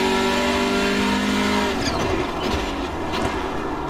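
A Hyundai Veloster N TC race car in iRacing drones loud and steady, its engine tone holding at first and then shifting as it changes pace, with no talking.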